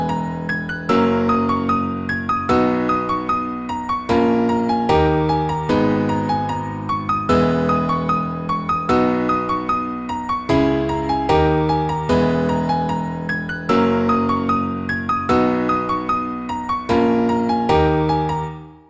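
A layered hardstyle synth lead plays the second part of a melody with pitch bends, bright stacked notes repeating in a driving, continuous pattern at full loudness with no voices.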